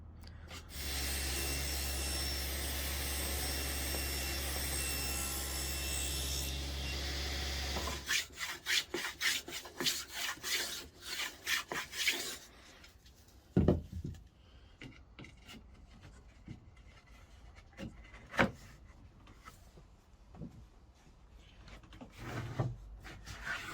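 Wood for shed doors is cut on a table saw, starting with a loud steady motor hum and cutting whine for several seconds, then shifting to scattered knocks, rubs and clatter as the wood is handled.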